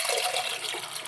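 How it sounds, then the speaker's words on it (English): A cocktail poured over ice into a glass, a short, bright and steady splashing stream close up, with no talk. "let's pour the drink in on top."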